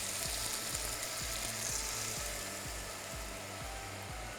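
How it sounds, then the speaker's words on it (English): Cooking white wine hits a hot pan of mutton to deglaze it, giving a steady, close, loud sizzle with a faint rhythmic low hum underneath and no speech. "alcohol is going to evaporate like this"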